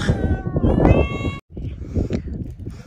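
A cat gives drawn-out meows, close and fairly loud, with a brief silence midway before more mewing and rustling noise.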